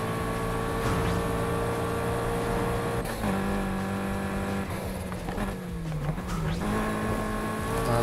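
A racing car engine in Need for Speed Heat revs continuously at high pitch, rising and dropping as gears shift, loud and steady throughout.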